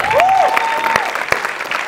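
Studio audience of a comedy show applauds briefly, a short burst of clapping under a voice speaking at the start.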